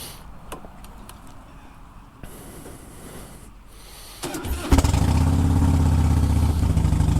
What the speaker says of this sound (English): That exhaust note is brought to you by Freedom Performance